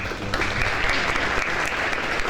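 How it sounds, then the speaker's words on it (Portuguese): Audience clapping steadily at a talk or lecture event in Brazil, a dense, continuous burst of applause from a crowd, fairly loud and close, with no voices standing out. "Um salve de palmas a vocês."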